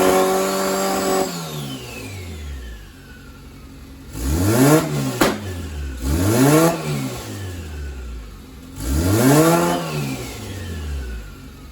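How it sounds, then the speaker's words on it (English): A turbocharged AWD Honda Integra with a D16 engine and ball bearing turbo revs hard several times, each rise and fall of the engine loud and close, with quiet pauses between the revs. "this Jackspania ball bearing turbo sounds fantastic on here. It spools up really well."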